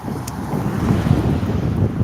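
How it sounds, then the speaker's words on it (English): Gusting wind buffets a microphone outdoors, a dense low roar that swells and surges loudly for a couple of seconds with no voice over it. "it's windy"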